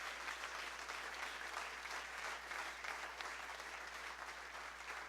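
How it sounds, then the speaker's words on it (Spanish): A church congregation applauds during a Spanish-language sermon on prayer, steady dense clapping at moderate level filling the full stretch without pause. "Dale un aplauso al Espíritu Santo."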